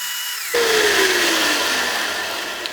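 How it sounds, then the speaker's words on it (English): Belt sander on a 4x36 inch belt and disc machine grinding a marked piece of wood, as for cutting a knife plunge line; a loud steady abrasive whir starts abruptly after a short quiet moment and runs on continuously, with its pitch slowly dropping. "I can get a really nice clean plunge line here"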